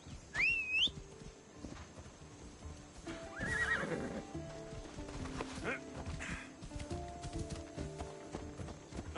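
Horse in the video game Assassin's Creed Odyssey gives a shrill whinny, then hooves clip-clop steadily underneath while a rider calls out and game ambience continues, with another neigh partway through.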